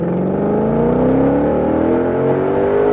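A 2020 Shelby GT500 at full throttle on the Nelson Ledges Raceway track, its loud engine roar climbing steadily in pitch as it accelerates, close and continuous throughout.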